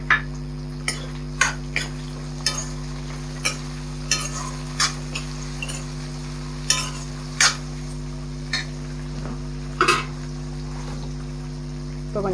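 Tomatoes sautéing with onions, green chillies and curry leaves in a pan for mutton curry, a steady low sizzle broken by the repeated clink and scrape of a spoon stirring.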